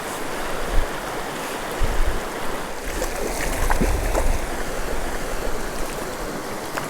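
Broadband river water rushing steadily outdoors on a fishing day, a continuous wash with light wind buffeting the microphone and a few soft bumps, no talk.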